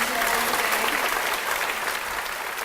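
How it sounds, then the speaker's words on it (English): Sustained, even applause fills the room at an anniversary event for a mental health charity, a dense wash of many hands clapping at once. "If you can give them all a big round of applause today."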